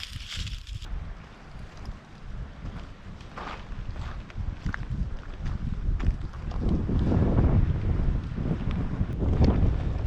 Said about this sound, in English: if you can hear me over the wind